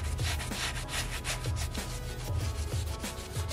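Microfiber towel loaded with polish rubbed back and forth over a chrome wheel rim, a steady close scrubbing friction with rhythmic strokes and no voices.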